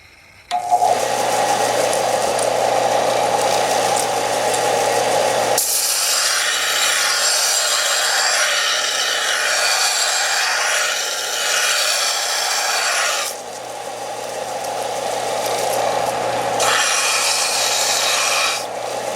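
A power grinder working a blacksmith's knife in a forge shop, a loud harsh whirring rasp that starts abruptly, with grinding bursts shifting in intensity as the blade is pressed and lifted, continuous and close.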